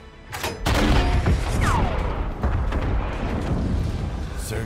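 Gunfire aimed at German soldiers in a World War II sniper battle, loud bursts and booms with a rumbling low end and a whistling streak, continuous heavy firing up close.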